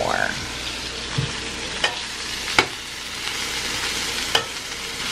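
Sausage sizzles steadily in a hot frying pan with a constant bright hiss, punctuated by a few sharp clinks and scrapes of a utensil stirring, close and continuous with no talk.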